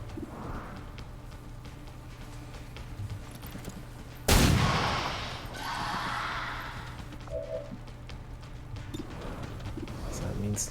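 A single sharp pistol shot in XCOM 2 cracks out loud and close midway through, followed by a fading tail, over a low steady game ambience with talking around it.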